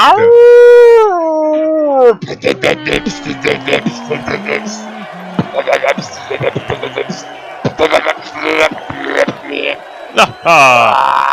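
A human voice imitates a wolf howling in a long, rising and falling wail, followed by rapid beatboxed clicks, pops and vocal bursts that carry on in a rhythmic pattern, with another howl near the end.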